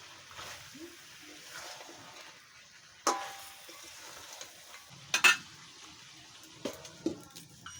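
A village-style chicken and raw potato curry seasoned with meat masala is stirred in a pot: faint, sparse scraping and clinking strokes over a low simmer, with a few sharper knocks near the end.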